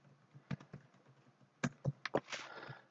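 Typing on a computer keyboard: a handful of close, quiet keystrokes tapped at an irregular pace, with brief bursts of clacks and pauses between them.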